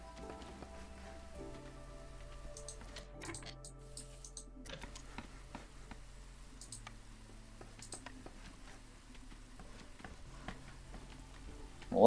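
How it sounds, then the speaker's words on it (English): Light drizzle in the strategy game Against the Storm, a faint, soft patter of rain that runs steadily throughout, with quiet ticks and low tones from the game sounding underneath. "Before the drizzle season's over."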